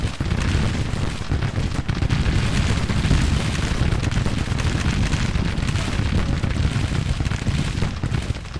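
Artillery firing on an enemy battery in the Civil War strategy game Grand Tactician, a continuous loud barrage of booming cannon blasts and rumbling explosions with no pauses.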